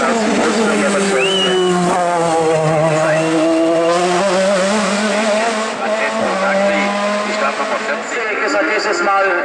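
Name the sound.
Porsche 935 race car driving a hill climb race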